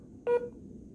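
A single short keypad tone from a Sonim XP3 flip phone while dialing a number, one clean beep lasting a fraction of a second over a quiet background.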